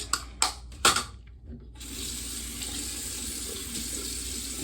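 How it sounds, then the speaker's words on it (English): A few light knocks, then a small razor is wetted under a running bathroom tap, and a steady, close water hiss fills the rest of the clip. "wet it a little bit"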